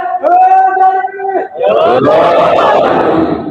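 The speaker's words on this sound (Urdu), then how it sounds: "نعرے" At a religious majlis gathering in Gilgit-Baltistan, a crowd loudly chants slogans: a leading voice calls out, then many voices answer together in a massed, roaring response.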